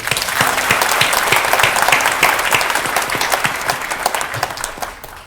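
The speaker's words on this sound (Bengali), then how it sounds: "তাদের জন্য জোরে একটা হাততালি দিয়ে" A large audience at a Notun Kuri children's competition event applauds the winning children with loud, sustained, dense clapping that slowly fades toward the end, with no clear talk.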